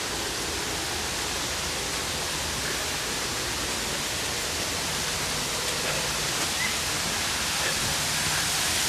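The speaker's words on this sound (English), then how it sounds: "I hear water." Water pours steadily over a small waterfall on a hot day, a continuous, loud rushing hiss that stays even for the whole stretch, with no voices heard.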